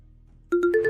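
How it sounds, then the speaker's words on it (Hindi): A phone ringtone bursts in after a quiet half second, four quick, loud, clean electronic tones in a rising pattern, with no one talking. "इतने में उसके पास में शिरीन का फोन आया।"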